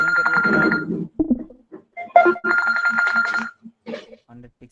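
A mobile phone rings with a repeating electronic tone, bursts starting and stopping in a broken pattern, close and fairly loud, with a voice talking over it and between rings in a room.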